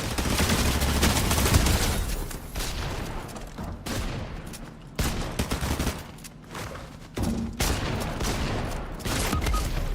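Bursts of gunfire in Fortnite, rapid volleys of shots coming in several loud clusters separated by short quieter gaps, sharp and close, with no speech over them.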